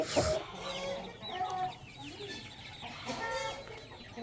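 A hen clucks softly in short, repeated bursts, close by, with faint background noise between the calls.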